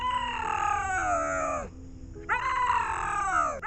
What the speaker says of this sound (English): That's the crying meow of a bobcat calling for a mate.